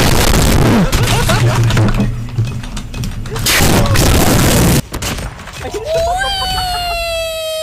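A grenade blast and bursts of gunfire in a military shooter video game, loud and chaotic, with a siren-like rising tone near the end and voices calling out over the action.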